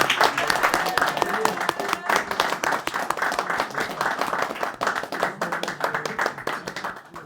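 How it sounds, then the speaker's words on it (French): Steady audience applause at a stand-up comedy club, dense rapid clapping from many hands throughout, with voices mixed in underneath. "Totalement, tout le monde applaudit."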